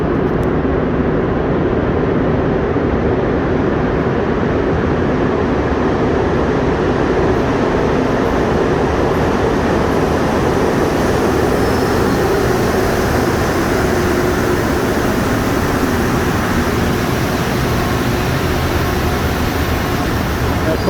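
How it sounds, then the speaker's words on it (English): A Montreal Metro train on the Blue Line rolls steadily through an underground station with a continuous rumbling roar and a hum of rubber tyres. The sound stays loud throughout, and speech is faintly audible. "As we wait for our metro to arrive, we'll get to see one coming from the opposite direction right now."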